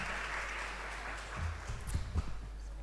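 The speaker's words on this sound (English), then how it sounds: "let's give him a round of applause." Audience at an awards ceremony gives a round of applause, a soft, fairly distant patter of clapping over a steady low hum, with a few sharper claps near the end.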